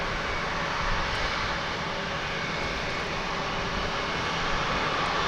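Steady, fairly loud jet engine roar from an American Airlines Airbus A319 at Dallas Fort Worth Airport, a continuous broadband rush with no voices over it.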